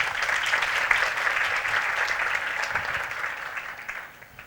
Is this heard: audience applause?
yes